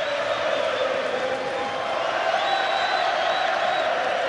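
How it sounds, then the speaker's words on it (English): Boxing crowd of Belfast fans roaring steadily for their fighter Conlan in an arena, a dense sustained wall of cheering with scattered whistles and no break. "Belfast's faithful, Conlan's fans trying to raise the man."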